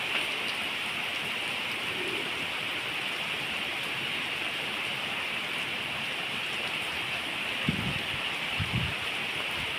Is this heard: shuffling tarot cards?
no